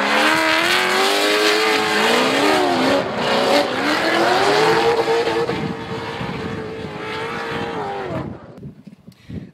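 A drift car slides at deep angle during pre-season testing, tires squealing loudly and continuously with engine revving alongside, the sustained screech rising and falling before fading out near the end.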